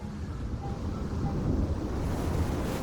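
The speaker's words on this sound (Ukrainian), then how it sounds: "Уоллі надувся з усієї сили і перетворився на гігантську хвилю." A giant cartoon ocean wave rushes and rolls, heard as a broad, loud, continuous low roar of surging water with airy wind-like noise, alone without voices.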